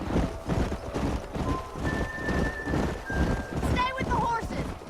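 Horses gallop in the video game Red Dead Redemption, a rhythmic run of hoofbeats pounding steadily under voices talking.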